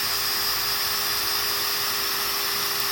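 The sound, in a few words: small drill boring a hole in wood for a pencil box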